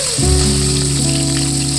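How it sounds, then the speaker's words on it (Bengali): Drumstick vegetable pieces dropped into hot mustard oil hit with a sudden loud sizzle that settles into steady, close frying for the rest of the moment. "এরপর ওই তেলের মধ্যে দিয়ে দিলাম সজনে ডাঁটা।"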